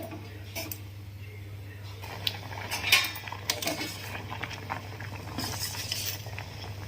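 Raw potato pieces for French fries drop into a pot of boiling water on a kitchen stove, with a few light clinks and splashes over a steady low hum.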